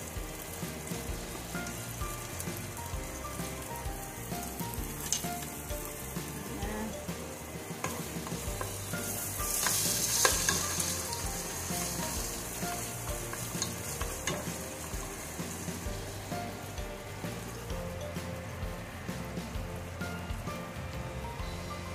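Garlic sizzles steadily in a hot pan while being stirred, a dense continuous frying hiss with occasional scraping, fairly quiet and with no talking.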